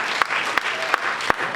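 An audience at a film festival award ceremony applauds steadily, a full close clatter of many hands punctuated by a few sharper, louder claps.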